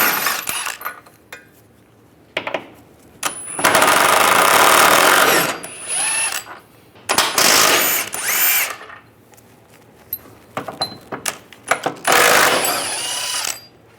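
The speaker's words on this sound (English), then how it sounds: "Using a 21mm socket, take these bolts out." A power tool with a 21mm socket drives out the subframe cradle bolts on a 1998-2010 Volkswagen Beetle, loud whirring bursts of several seconds each separated by short pauses and clicks, close up.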